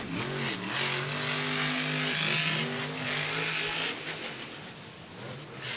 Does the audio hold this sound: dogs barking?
no